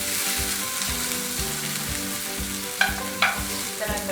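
Egg with green chili, tomato and vegetables fries in a pan over medium flame, a loud, even sizzle with a low rhythmic hum beneath and a couple of brief scraping stirs near the end.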